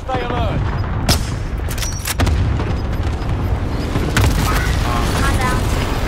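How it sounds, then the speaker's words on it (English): Precision airstrike explosions in the Call of Duty: Modern Warfare video game, several heavy booms and sharp cracks rolling across a steady battle din, with in-game voice callouts over the top. "Enemy precision airstrike"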